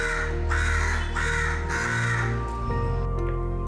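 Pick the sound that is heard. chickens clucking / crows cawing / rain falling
crows cawing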